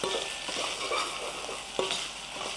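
Green chillies fry with a pinch of salt in a pan for a paneer ghee roast, giving a steady, close hiss with a few light scrapes from stirring.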